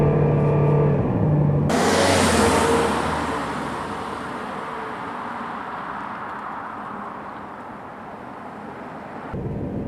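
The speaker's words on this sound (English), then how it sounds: "You can hear that turbo whine too." A Buick Regal Turbo accelerates hard with a steady rushing roar and a faint high turbo whine, fading gradually as it continues.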